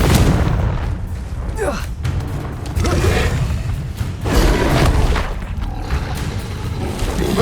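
Confringo spell blasts in the video game Hogwarts Legacy boom in loud, close bursts over ongoing combat noise, with rumbling impacts and a whooshing cast sound between them.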